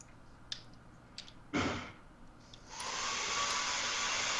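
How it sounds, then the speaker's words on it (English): A vacuum cleaner switches on partway through and runs steadily with a loud, even whir, after a brief rough burst and a few faint clicks. "doing some crazy vacuuming"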